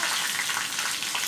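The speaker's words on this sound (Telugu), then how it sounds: "జీలకర్ర, 2 ఎండుమిర్చి ముక్కలు వేసుకుని పప్పుని దోరగా వేయించుకోవాలి." Dal sizzling in a pan with cumin seeds and pieces of dried red chilli, a steady hiss of frying oil running evenly throughout, close by and alone.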